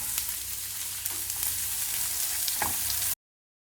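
Capsicum and finely chopped garlic sizzle steadily in butter in a pan while being stirred, a close, continuous frying hiss with a few soft scraping stir sounds and no talking.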